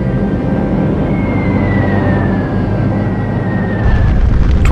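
Massed American warplanes over Berlin in 1945, a heavy droning roar of aircraft engines with a slowly falling tonal whine, continuous and loud throughout.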